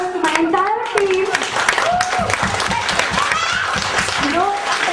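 Audience applause at a team gathering, a continuous mass of clapping hands lasting throughout, loud and close, with chuckles, cheers and voices mixed into it.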